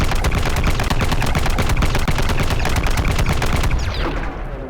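A modded gun in Blade and Sorcery fires in a rapid, loud sustained burst of automatic shots that tapers off near the end, close and with no talk.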